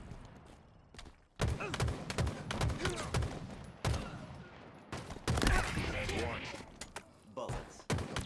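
Bursts of rapid gunfire in a Halo free-for-all match, loud, dense volleys starting after a quiet second and running almost continuously, with a few sharp separate shots near the end and a player's voice talking over the action.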